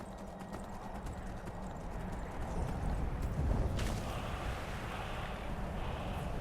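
Horse hooves clip-clopping steadily in an Elder Scrolls game, a continuous trotting rhythm over a wind-like ambient bed, with no voices.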